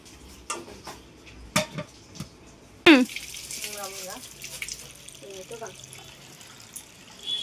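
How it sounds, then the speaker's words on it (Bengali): Water splashes and trickles as a stone is rinsed in a home kitchen before being set on a biryani pot. Sharp knocks and clatters come first, then running water with gurgling splashes. Voices are faintly audible in the background. "পাথরটা ধুয়ে নিলাম।"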